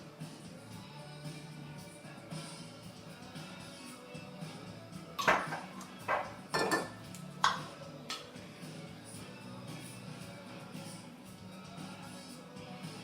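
Tomatoes going into a beef stew pot, a short cluster of clanks, taps and scrapes against the pot in the middle, otherwise quiet kitchen background.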